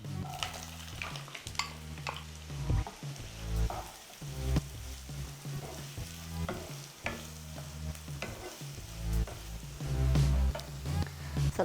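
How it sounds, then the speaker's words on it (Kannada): Two onions frying in hot oil in a pan, stirred now and then, with steady sizzling, close and loud, and occasional scrapes of a utensil against the pan. "ಇದು ಚೆನ್ನಾಗಿ ಫ್ರೈ ಆಗಬೇಕು, ಬ್ರೌನ್ ಕಲರ್ ಬರಬೇಕು"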